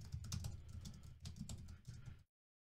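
Quick typing on a computer keyboard as a message is entered, a close, dry run of key clicks in short bursts with a brief pause, then stopping abruptly into silence.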